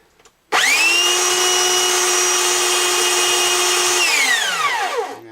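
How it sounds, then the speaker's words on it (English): A power tool sanding the saddle of a Gibson J40 acoustic guitar held in a vise, a loud, steady high-pitched whine that starts abruptly, holds for several seconds and then winds down. "I'm just going to sand it down until the thing's flat with the vise here."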